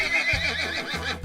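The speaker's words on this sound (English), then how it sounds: "Here we have a light brown horse" A light brown horse whinnies in a loud, close, wavering neigh that trembles up and down across the whole clip, heard alone.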